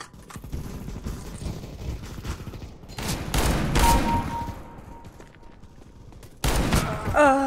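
Gunfire in the CS:GO video game, with bursts of rapid shots and clattering mechanical game sounds at a moderate level, mixed with background game noise.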